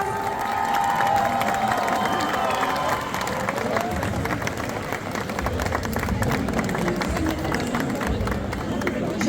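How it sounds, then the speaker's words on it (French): A crowd at a cosplay contest prize announcement during a Japan Tours festival applauds and cheers, a loud dense mix of clapping, shouts and whoops that runs the whole stretch, with a voice over a loudspeaker near the start. "Todaki Yu, qu'on peut applaudir bien fort, qui arrive, prix Espoir."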